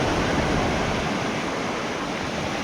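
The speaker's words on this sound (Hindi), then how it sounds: "ये देखिए, ये समुद्र की लहरों को देखिए, समझिए इसमें कितनी तेज़ी है" Sea waves at Gopalpur beach in Odisha, a loud, continuous roar of surf washing in without a break.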